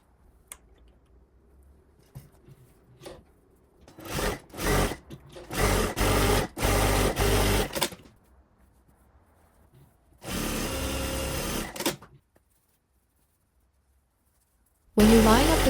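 Sewing machine stitching a waistband onto baby pants, running in several short bursts and two longer steady runs, with quiet pauses between.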